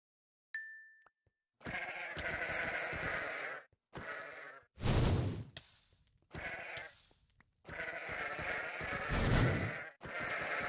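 Several sheep bleats in the video game Minecraft, loud and close, coming in repeated bursts separated by short gaps, with no talking over them.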